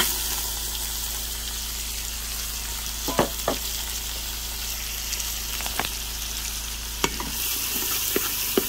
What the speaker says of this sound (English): I'm gonna saute the onions